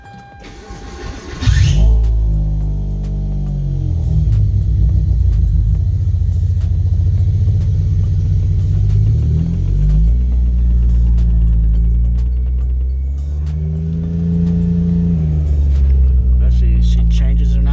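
A car engine idles with a steady low rumble, then revs up and settles back several times, loud and close, with brief speech at the start.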